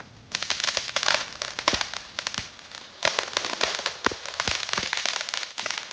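Firecrackers and sparklers burst and crackle on the eve of Eid, a dense run of sharp snaps and pops with a brief lull midway, fairly close and with no talking.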